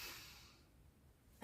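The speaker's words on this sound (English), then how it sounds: "Breathing in" One soft, airy breath during a family yoga class for a parent and child fades away within half a second. Near silence follows until a sudden louder sound cuts in at the very end.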